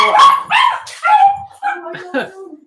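A dog yips and barks in short, close bursts, mixed in with people talking nearby during a casual Easter greeting.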